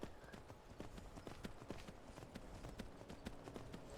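Horse hooves clip-clop steadily in Skyrim Anniversary Edition, a quick even rhythm of soft thuds close by, fairly faint, over a dense game ambience.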